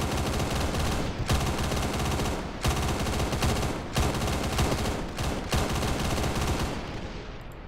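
Sustained automatic weapons fire in an Arma 3 battle near a Shilka anti-aircraft vehicle, loud continuous bursts broken by brief pauses, heavy and close, with no talking.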